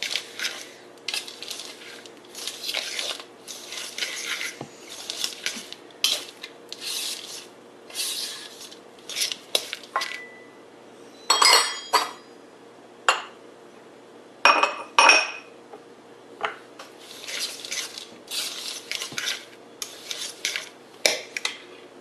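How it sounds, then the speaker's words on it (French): Sliced almonds and chopped walnuts for honey granola are stirred in a bowl, giving repeated close scraping and rubbing strokes with light clinks of the spoon against the bowl, with no talking. "On mélange tout ça aussi."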